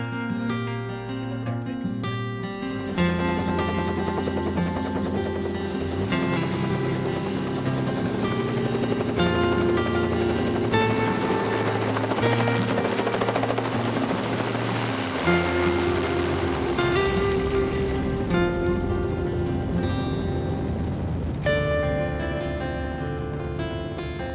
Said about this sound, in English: The helicopter's coming in now with my son